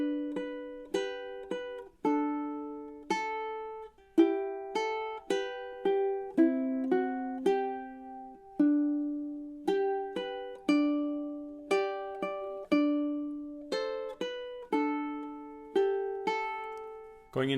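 A ukulele plays a fretted passage of Waltzing Matilda alone, plucked notes and strummed chords ringing out in a steady, gentle waltz rhythm, close and clear.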